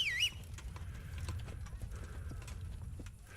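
Horse hooves clip-clop at a steady walking pace in the medieval game Kingdom Come: Deliverance, low and continuous under light ambient background, with a brief high chirp at the very start.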